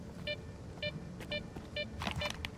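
Repeated electronic beeping in the S.T.A.L.K.E.R. 2: Heart of Chornobyl video game, short pulsed tones recurring every half second or so over a noisy game-ambience background, with a few louder clattering hits near the end.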